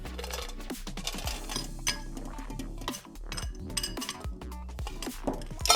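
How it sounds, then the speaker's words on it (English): Ice cubes clink and tumble into a glass for a Tokyo Iced Tea cocktail, a close run of bright, irregular knocks with a brief pause midway. "Now fill a glass with ice."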